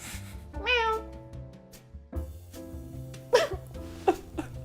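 A house cat meows insistently, wanting something, with one clear rising meow early and a few shorter, higher chirping meows later, close by over quiet room noise.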